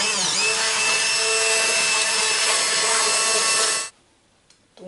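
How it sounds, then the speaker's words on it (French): An immersion hand blender whirs steadily for about four seconds through a pear jam mixture, loud and close, with a bright motor whine and churning, then cuts off abruptly into near silence. "Donc là maintenant je vais mixer un peu la préparation"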